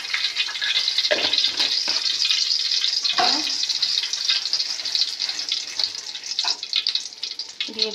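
Bay leaf dropped into hot oil in a wok, giving a steady bright sizzle and crackle with a few louder spits and pops throughout, close by and without talk.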